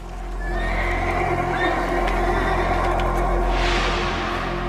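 Several horses whinny and neigh loudly over a steady low rumble, with a faint clip-clop of hooves and a shrill rising call near the end, heard outdoors in the Northwest United States.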